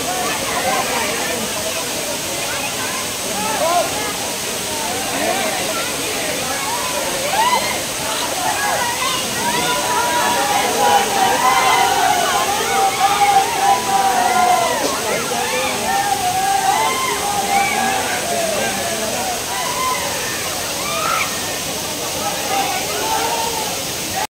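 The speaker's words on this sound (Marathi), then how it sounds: "मित्रांनो आपण जे दृश्य पाहत आहात हा माझ्या मागचा आहे जटाशंकर धबधबा." The Jatashankar Mahadev waterfall in Ambabarwa sanctuary, Buldhana, Maharashtra, pours with a steady, broad roar of rushing water throughout, with visitors' voices mixed faintly underneath.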